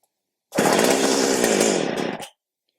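A Stihl HS80 hedge trimmer's two-stroke engine roars at fast idle in one loud, close burst of just under two seconds before cutting out abruptly.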